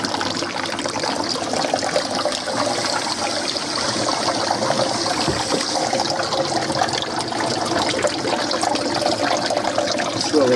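Water swirls and churns steadily in a koi pond filter chamber as a hose pipe flushes it out, a continuous close rushing wash with no pauses.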